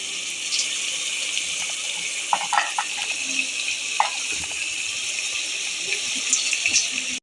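Water poured from a glass into a pan of sautéed potato and pea curry, a steady soft gushing splash with a few faint clinks, fairly quiet and without talk.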